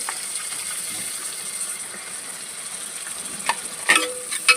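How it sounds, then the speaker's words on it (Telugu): Onions, green chilies, fennel seeds and cumin fry in hot oil for a spicy samosa filling. A steady close sizzle runs throughout, and a few sharper scraping clinks from stirring come near the end. "ఆయిల్ వేసుకొని, ఇదిగోండి, సోంపు 1/2 స్పూన్ వేస్తున్నా, జీలకర్ర కొంచెం, పచ్చిమిర్చి, ఆనియన్ వేసుకునేద్దాం."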